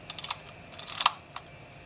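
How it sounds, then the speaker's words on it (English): A Canon Canonet film camera's shutter mechanism is cocked and locked: a run of small, sharp mechanical clicks and ratcheting ticks, close and crisp, clustered in a brief burst with a few isolated clicks around it. "When I fire it, you see it unlocks, and when I cock it, it moves over to lock."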